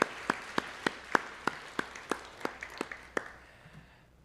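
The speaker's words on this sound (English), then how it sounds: "Let's give a big round of applause to Roop and Catherine for your leadership." Sparse, evenly paced handclaps at an applied art and design award event, about a dozen sharp distinct claps in a slow rhythm from a small audience, fading out near the end.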